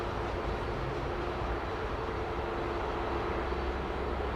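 Pratt & Whitney jet engines on an airliner lining up for a morning departure from runway 09R at Heathrow Airport produce a steady, broad roar. The sound is constant and fairly distant, with no voices.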